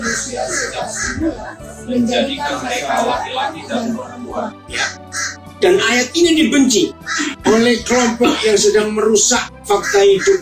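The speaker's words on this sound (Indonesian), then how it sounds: "yang tanya-tanya itu suara apa, ngikuti online itu suara burung gagak" Crows caw outdoors behind a man preaching in Indonesian, the harsh calls surfacing between his words while his voice stays in front.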